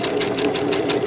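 A sewing machine stitches a regular straight seam, its needle pulsing in a fast, steady rhythm about five strokes a second under a constant motor hum, close and alone with no talking.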